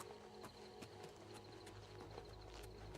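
Horse hooves in Oblivion Remastered clop faintly in a steady, uneven trot under a soft ambient wash of the game world, with no voices.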